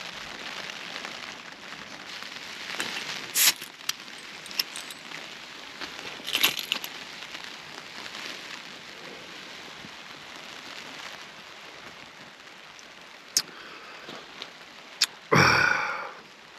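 Rain falls on a dark moorland night walk near Skelton Tower, a steady soft hiss with scattered louder taps and rustles, fairly close, ending in a sharp burst of noise, with no voices.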